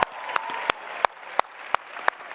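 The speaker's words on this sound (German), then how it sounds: "Give it up for the Swiss." A crowd gives applause for the Swiss at a morning session, a soft steady clapping bed punctuated by sharp, evenly spaced single claps or knocks close to the microphone.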